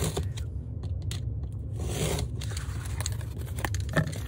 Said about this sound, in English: I'm just going to take off some of the tape